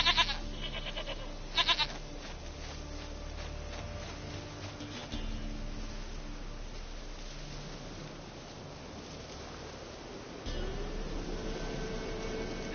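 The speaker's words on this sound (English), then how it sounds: "Goat of mine, dearest, sweetest goat." A goat in The Witcher 3 video game lets out a few short bleats near the start over a steady background hum, with the game's ambient sound continuing afterward.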